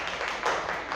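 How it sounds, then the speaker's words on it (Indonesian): Children clap together in a school classroom, a dense, continuous patter of applause lasting about a second. "Tepuk tangan anak-anak untuk Anggara."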